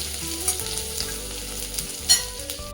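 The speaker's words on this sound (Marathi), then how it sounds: "लसूण चांगला व्यवस्थित भाजून घ्यायचा आहे." Garlic, mustard seeds and cumin fry and sizzle steadily in hot oil while being stirred, with a dense continuous crackle and occasional spoon scrapes, close and alone.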